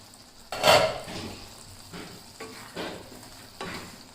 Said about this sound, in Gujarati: તો આપણે ઢાંકણ ખોલી લઈશું અને એકવાર મિક્સ કરી લઈશું